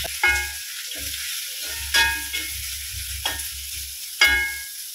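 Mustard seeds, dal, curry leaves, onions and green chillies fry in hot oil with a bright crackling sizzle, punctuated by a few sharp stirring clanks and scrapes close by.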